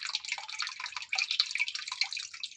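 An aquarium circulator pump, strong enough for a 200-litre tank, moves water with a steady close-up splashing and bubbling that runs without pause.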